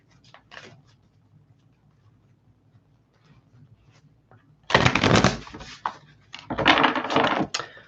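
Tarot cards shuffled up close in two separate bursts of rapid riffling, each lasting a second or more, preceded by a few faint taps and handling sounds in an otherwise quiet room.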